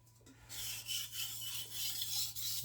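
A knife is deburred on a sharpening stone with light, close rasping strokes in a quick series of swipes, alone and without speech.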